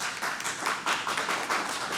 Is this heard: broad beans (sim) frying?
no